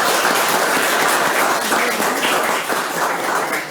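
Loud audience applause at a seminar session, a dense continuous burst of clapping filling the room, close and sustained throughout.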